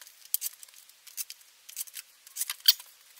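Something cuts a 3/4 plastic construction-toy rod for a model attack helicopter with a scattering of crisp, quick snips and clicks. The cuts are close and fairly quiet, spread over a few seconds without speech.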